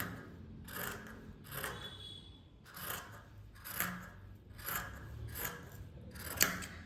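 Scissors snipping through fabric for a nightie, a series of about eight quiet, close crisp cuts in an uneven rhythm, each a short rasping shear, with no talking.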